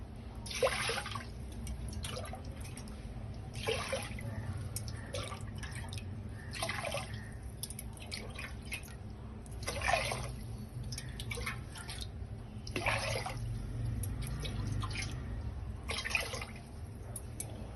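Water pours and drips into a vessel in uneven bursts over a steady low background hum, with no talking.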